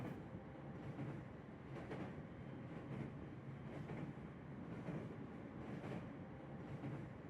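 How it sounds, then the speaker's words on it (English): The Caledonian Sleeper train rolls steadily north through the night, a low rumbling hum with regular rhythmic clacks of the wheels over track joints, heard from inside. "the train continues its steady journey northward"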